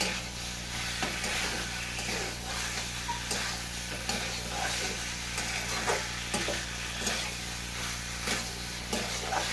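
Boiled potatoes and chickpeas stirred in a pan: a steady sizzle with a scraping spoon sound repeating in a loose rhythm, close and fairly loud, with no talking.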